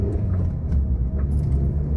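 Heavy Friday lunchtime road traffic rolls past a moving car, heard from inside as a steady low rumble of engine and tire noise with faint rattles, no talking.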